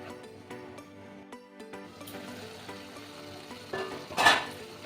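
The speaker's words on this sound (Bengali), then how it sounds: "এবার এই মশলাটাকে ভালো করে কষিয়ে নেব।" Spice paste for Bengali cauliflower dum fries slowly over low heat, giving a soft, quiet sizzle with light clinks of stirring and one brief louder hiss near the end.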